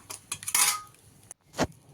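Metal utensil scraping and clinking against a pan while two fried eggs are stirred, a few short bursts of clatter with a louder scrape near the end, close by and with no talking.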